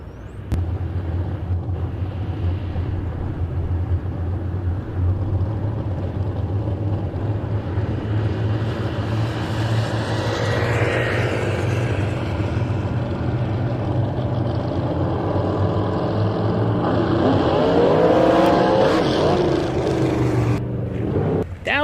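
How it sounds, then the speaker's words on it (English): A drag racing dragster at an IHRA test day at Virginia Motorsports Park launches hard into a big wheelie, its engine a loud, sustained roar that fills the whole stretch and swells near the end. "That was a pretty big wheelie for a dragster."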